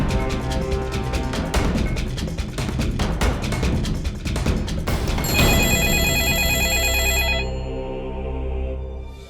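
A telephone ringing in a Hindi TV drama scene amid a loud, busy background of dramatic music and clatter, with a bright electronic ring tone rising toward the end.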